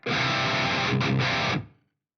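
A distorted electric guitar sustains a chord, briefly shifts, then stops, leaving a short faint room-like tail from a half-second reverb mixed at 10 percent.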